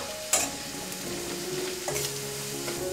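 Semolina stirred and roasted in ghee in a pan, a steady close sizzle with scraping strokes of the spoon, no talking.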